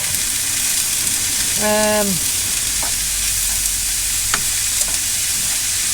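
Steady hissing sizzle of mince frying in a hot pan, with a brief tonal squeak and a few faint clinks of a utensil.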